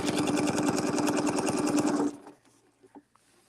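A sewing machine quilts a sunflower design around a circular template, running as a fast, steady, close-up chatter of stitches for about two seconds, then stopping abruptly. Only faint handling noises follow.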